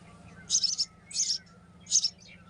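House sparrow chicks give three bursts of high, shrill chirping from a nest in a mountain village in Uttarakhand, spaced about half a second apart over a quiet low hum in the early morning.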